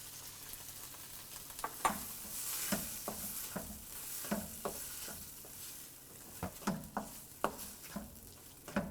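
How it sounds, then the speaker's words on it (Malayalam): Finely chopped tomato sautéing for chicken vindaloo, a soft low sizzle beneath repeated light scrapes and taps of a stirring spoon, fairly quiet throughout. "ഇനി ഇതിലോട്ട് നമ്മൾ വളരെ ചെറുതായിട്ട് കട്ട് ചെയ്ത് വെച്ചിരിക്കുന്ന ടൊമാറ്റോ ഇട്ട് വഴറ്റുക"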